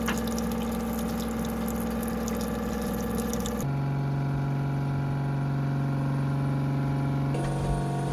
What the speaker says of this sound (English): So the water maker's on and it's not as loud as we thought it would be